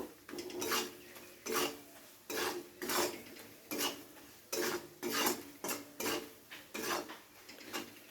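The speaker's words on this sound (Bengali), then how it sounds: "সমস্ত কিছু দিয়ে পেঁয়াজের সাথে খুব ভালো করে নেড়ে চেড়ে নেব।" Onions with coriander powder being stirred in a pan for a Bengali katla fish curry: repeated scraping strokes of a spoon against the pan, close and rhythmic, about a dozen pulses with brief gaps between them.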